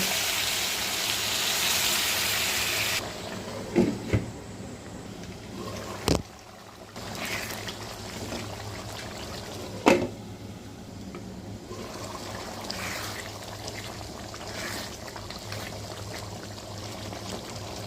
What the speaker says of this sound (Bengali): এখন সেদ্ধ হওয়ার জন্য গরম পানি দেব।